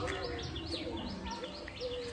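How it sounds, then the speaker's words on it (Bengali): Birds call outdoors near trees that have just been cleared, with repeated bright chirping notes and softer cooing layered over a low background hum, moderately faint and continuous. "কোকিলের ডাক শুনতে পেলে?"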